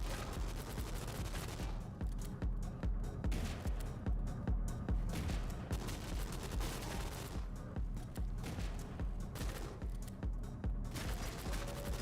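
A video game automatic shotgun fires in a dense, continuous rapid burst of blasts for twelve seconds, loud and close, with no talking.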